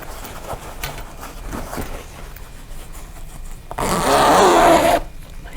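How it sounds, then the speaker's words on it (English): A zipper on a fabric pouch is pulled open in one steady, raspy stretch lasting about a second, after a few soft handling rustles. "and then I'm going to open this zipper."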